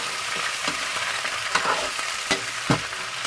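Octopus sizzles in a hot pan with golden-browned onion and garlic, a steady frying hiss broken by several sharp clatters of a utensil stirring and scraping the pan, with no talking.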